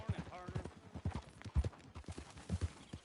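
Horse hooves clip-clopping in Red Dead Redemption 2, a steady plodding rhythm of soft hoof falls heard under a woman's close, continuous speech.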